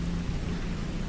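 Steady, dense rain hisses close by with a low rumble underneath, continuous and even for about a second.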